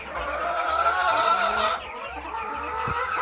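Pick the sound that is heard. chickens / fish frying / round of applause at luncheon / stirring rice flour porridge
chickens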